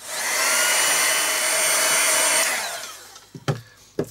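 A hair dryer blows loudly and steadily for a couple of seconds while drying paint on an art journal page, then winds down and switches off, followed by a few light knocks and handling sounds.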